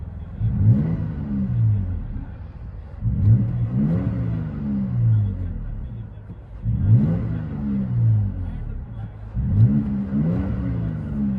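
A Toyota Tacoma 3.5L V6 fitted with a Borla Pro XS single exhaust system is revved repeatedly, heard from inside the cab, four deep rumbling rev cycles rising and falling in a steady rhythm.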